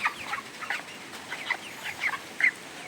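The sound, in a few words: chickens panting and clucking in the heat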